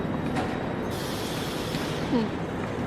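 A train with a restaurant car rumbles steadily nearby at Lake Como, Italy, with a continuous low roar, and a brief metallic squeal rises near the end.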